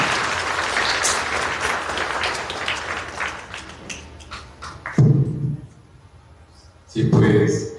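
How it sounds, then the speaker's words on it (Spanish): Audience applause for a speaker at a lecture marking 500 years of the Dominicans in Mexico, loud and dense at first, then thinning with voices and a couple of short louder bursts. "Vamos a darle un fuerte aplauso a Eduardo."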